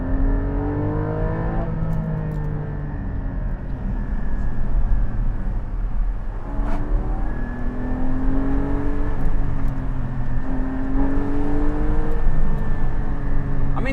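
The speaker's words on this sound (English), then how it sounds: "I'm in second gear and I can't get out of second gear because it just gives you so much power in second gear." A Porsche 718 Cayman GT4 held in second gear on a drive, its engine note climbing and falling through repeated revving pulls, steady and prominent from inside the car with no talking.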